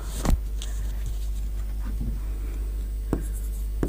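A teacher writes a sentence on a board in a classroom, with soft scratchy strokes and a few sharp taps of the marker or chalk, close and quiet over a steady low hum.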